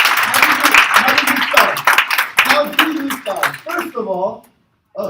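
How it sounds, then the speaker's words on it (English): Audience round of applause in a talk, crisp claps heard in the first seconds under a speaker's voice, then tailing off as the speaker carries on. "That deserves a round of applause."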